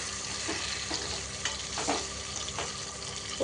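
Tomatoes frying in oil for a spicy Telangana-style bendakaya pachadi give a constant close sizzle, broken by a few soft stirring scrapes and small pops, with no one speaking.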